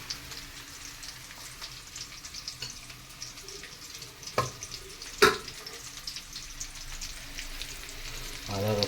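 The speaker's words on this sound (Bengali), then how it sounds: "এবার আদা রসুন আর কাঁচা লঙ্কার পেস্টটা এর মধ্যে দিয়ে দেবো, দিয়ে একটু ভালো করে ভেজে নেব।" Ginger, garlic and green chili paste frying with browned onion in a pan, a steady sizzle throughout with a couple of sharp crackles and spatters midway and a louder burst of sizzling at the end.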